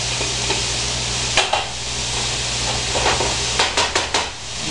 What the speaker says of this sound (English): We're just going to stir fry it